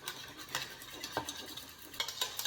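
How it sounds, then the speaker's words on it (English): A spoon stirs beef jerky marinade with Worcestershire sauce in a bowl, giving a quick run of soft scraping clinks against the bowl, close and fairly quiet, with no talking. "So I'll give that a quick stir"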